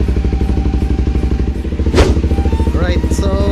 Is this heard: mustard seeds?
no